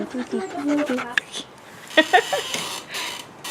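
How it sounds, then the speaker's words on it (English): A dog makes odd, rapid panting and whimpering noises up close, with short yips mixed in, while a person talks in the background. "The weirdest sound I've ever heard come out of a dog."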